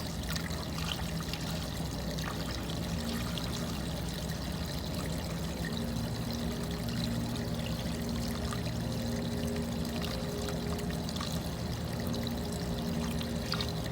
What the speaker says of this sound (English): I'll just slowly pour so that it doesn't overflow until I get this water into the tank